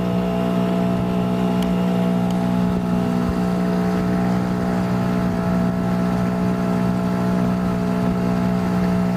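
A dinghy outboard motor runs steadily on open water near coral off the Seychelles, a loud, continuous drone with a constant pitch throughout and no talking.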